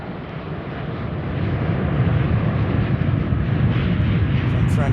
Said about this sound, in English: Here's our Frontier A321neo.